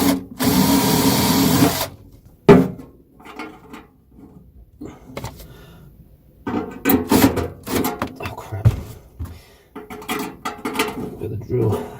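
A drill runs in a loud two-second burst while a diesel fuel can guitar is being assembled, followed by intermittent clatter, knocks and handling sounds as parts are fitted.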